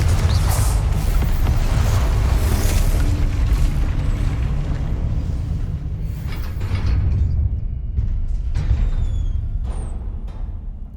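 Explosions from the Confringo fire spell in the video game Hogwarts Legacy boom loudly and continuously, with deep rumbling bursts and crackling debris that thin out toward the end.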